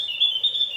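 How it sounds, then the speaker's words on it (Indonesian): An opior bird gives a thin, steady high-pitched song note, close and clear, lasting under a second with no other sound. "Ini si opior lagi mau bunyi."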